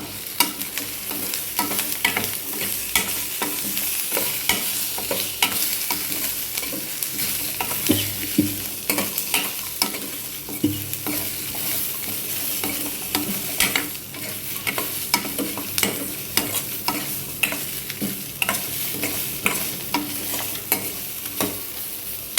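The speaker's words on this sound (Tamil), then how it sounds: "இப்போ இதை எல்லாத்தையுமே வறுத்துக்கலாம்" Coconut and tomatoes sizzle and fry in a pan for a meal maker gravy, with a spoon stirring and scraping in a steady rhythm close by.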